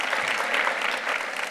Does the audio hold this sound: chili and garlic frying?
no